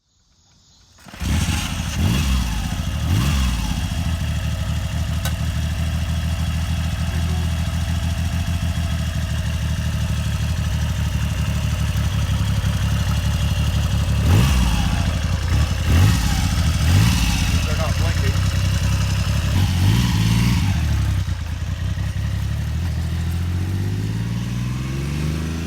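An original production three-cylinder motorcycle engine starts up, idles with a throaty mid-pitched drone, and is revved several times in rising bursts, loud and close.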